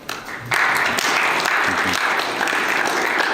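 Applause breaks out at a city meeting after motions pass: a quiet moment, then a sudden burst of steady group clapping that holds strong and sustained to the end.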